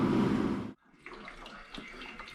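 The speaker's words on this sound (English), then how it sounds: "so we're draining the coolant now" Engine coolant drains from an all-wheel-drive Honda race car in a steady, splashing pour that stops abruptly, followed by faint trickles and drips.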